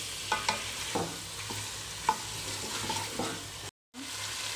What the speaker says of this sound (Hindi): हमने इसको इतना फ्राई करना है कि चिकन का कलर डील हो जाए।